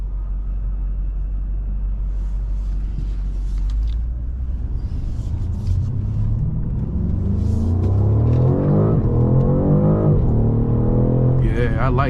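A BMW M550i V8 with a Dinan throttle response booster set to 150% revs in deep, rumbling bursts that climb in pitch toward the end, heard from inside the car with a voice speaking over it.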